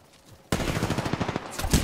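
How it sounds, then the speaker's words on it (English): Apex Legends game gunfire bursts out suddenly after a quiet moment, a loud rapid volley of shots coming from behind the player, close and dense for over a second. "Oh, I'm getting shot from behind."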